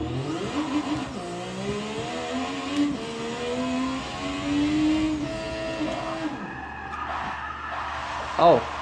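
In Forza Motorsport 6, a car drifts with its engine revving in rising and falling sweeps and tires squealing as they skid, until the engine note drops off near the end.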